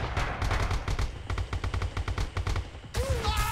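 Rapid gunfire in the video game Red Orchestra 2: bursts of sharp automatic shots fired in quick succession, close and loud, ending with a different whistling, ringing sound.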